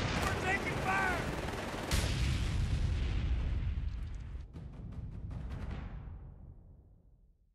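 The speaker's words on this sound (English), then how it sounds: "We're taking fire!" Battlefield combat in Company of Heroes 3, with gunfire and a heavy blast near the start, then scattered distant shots and rattling bursts fading away, under faint shouted voices.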